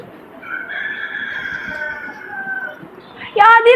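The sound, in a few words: rooster crowing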